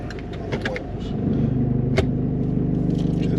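A 4WD vehicle in full low range and first gear rumbles at low revs as it starts down a steep track in Victoria. The engine note is close and steady, and a brief sharp knock sounds partway through.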